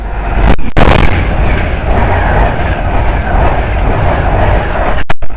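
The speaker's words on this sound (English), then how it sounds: "a speedy Avanti West Coast 390 from Manchester Piccadilly to London Euston, going at a great next speed there" A Class 390 on Avanti West Coast's Manchester Piccadilly to London Euston service passes Bushey Station at high speed. A loud, close roar holds throughout, broken by sharp bursts near the start and end.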